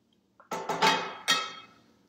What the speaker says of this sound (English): So I'm going to raise my glass in a toast